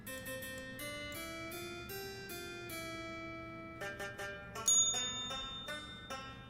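A bell in the video game Gold Rush sounds as a sequence of clear, ringing tones, each struck note decaying before the next, with a faster cluster of dings near the end, fairly quiet and without talking.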